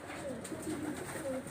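Pigeons used for brooding coo softly in a loft, a low murmuring call rising briefly twice over steady background noise.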